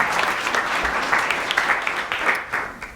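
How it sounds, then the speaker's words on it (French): An audience claps warmly in an ovation for Roland Biot, dense close applause sustained throughout with slight surges and no talk. "Je vous invite à faire une première ovation à Roland Biot ce soir."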